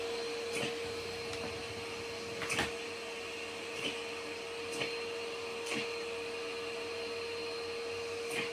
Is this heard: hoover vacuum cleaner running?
yes